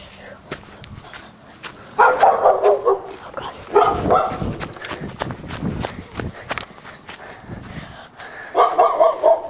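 Dog barking outdoors, a run of sharp barks mixed with footsteps and movement, loud and close, with voices in the background.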